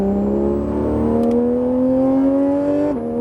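Porsche GT3 RS accelerating on the Le Mans Maison Blanche race circuit, a loud close engine note climbing steadily in pitch as it pulls, then a brief dip at a gear change near the end.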